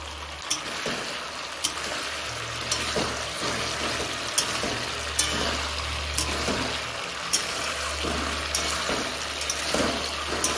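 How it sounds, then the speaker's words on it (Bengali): Eggs fry in a hot pan with a little water added, giving a steady sizzle broken by occasional sharp pops and stirring clicks, heard close up with no talking. "এবার আমি ডিমগুলো দিয়ে দেব।"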